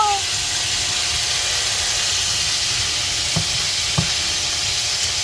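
Onions hit a hot pan for a lasagna sauce and give off a loud, steady sizzle and hiss, broken by two brief clinks.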